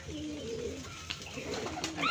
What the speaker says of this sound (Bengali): দিচ্ছে শব্দ শুনতে পাচ্ছি ভাই, কিন্তু কবুতর দেখতে পাচ্ছি না।